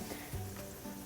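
Meatball bits and scraped fond sizzling in hot oil in a pan, a steady close crackle with a brief scraping stir partway through, no voices.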